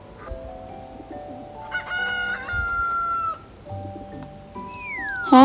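A cartoonish hen clucks and crows in an animal-transformation running game, set against bright tonal game music and chirpy sound effects, with no voices.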